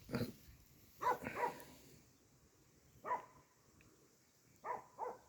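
A dog barks in short bursts: one bark, then a quick double, another after a pause, and two more near the end, over steady background hiss.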